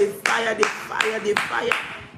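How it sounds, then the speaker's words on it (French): Applause breaks out during a morning prayer service, with several bursts of hand clapping at a quick rhythm heard close by, mixed with voices. "Quelqu'un peut-il faire monter des acclamations, faire monter des faillas au nom de Jésus?"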